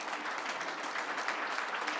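A crowd at an HBCU all-stars awards celebration applauds the players, steady dense clapping throughout at a moderate, even level.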